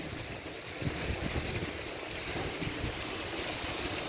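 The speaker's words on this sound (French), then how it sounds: "Oh, c'est une jolie fontaine." Steady broadband splashing of the water fountain on Place des Terreaux in Lyon, beside the city hall and the Musée des Beaux-Arts, a continuous outdoor wash of falling water with no voices.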